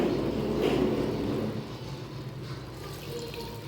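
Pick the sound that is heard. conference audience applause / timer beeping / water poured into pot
water poured into pot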